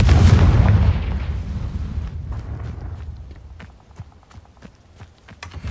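An explosive Confringo fire spell blast in Hogwarts Legacy, a loud booming burst at the start that decays into a rumbling tail, followed by scattered small clicks and footstep-like taps.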